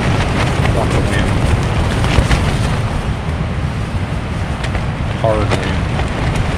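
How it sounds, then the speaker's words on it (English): Strong wind roars across a mountain campsite in the Ouachita Mountains, a steady, loud buffeting rush with low rumble that never lets up, with occasional brief higher flutters. "Lots of wind."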